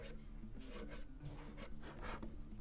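A small file or tool rasps back and forth while cleaning out the rear sight notch of a CZ pistol, giving short rhythmic scraping strokes. The sound is faint and close, with no talk.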